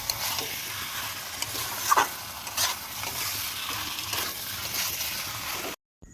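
Chicken curry being stirred in a pan by hand, with steady scraping and sloshing over a soft sizzle, a few louder clanks of the spoon, then a brief drop to silence near the end.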